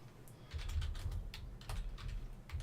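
Quick, quiet clicking of fingers typing on a computer keyboard, rapid irregular key taps in short bursts, close up and alone.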